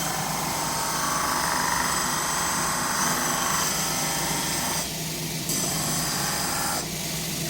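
A coarse diamond grinding wheel is pressed hard against glass in a glass restoration workshop, producing a steady, loud, unbroken grinding whine with no talking.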